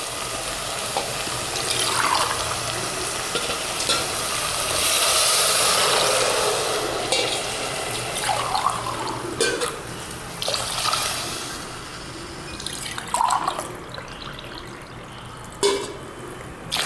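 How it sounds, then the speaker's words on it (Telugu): Water pouring into a pan of fried onions and garlic for Hyderabadi bagara rice, a continuous hissing splash that swells and fades over several seconds, close and with no speech. "ఇప్పుడు ఇందులోకి మనము వాటర్ తీసుకోవాలి."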